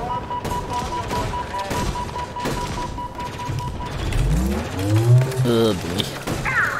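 Enemy gunfire in Halo Infinite: rapid bursts of weapon fire and mechanical clatter, with a steady electronic tone and whooshing, sweeping sci-fi effects, plus other game sounds in the mix.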